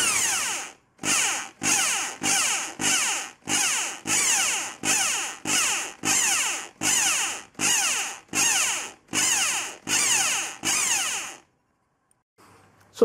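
A power drill boring holes in short, regular pulses while fitting a radiator and cooling fans to a Lotus Excel: about thirteen loud, close bursts of whirring motor with brief gaps, then it stops.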